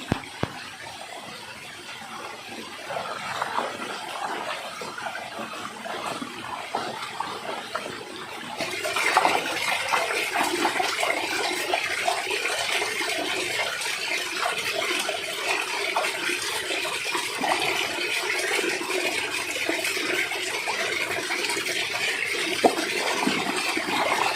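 Water runs steadily while sandals are rinsed outdoors, a continuous splashing hiss that grows louder and fuller partway through and then stays constant, with no voices.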